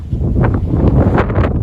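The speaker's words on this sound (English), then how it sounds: "Sorry about the wind." Heavy wind buffets the microphone in loud low rumbling gusts, a continuous roar with brief rustling peaks.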